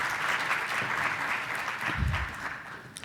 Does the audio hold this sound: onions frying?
no